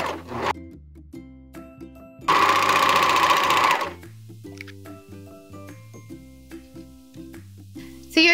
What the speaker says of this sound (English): we're gonna go ahead and sew this up on the serger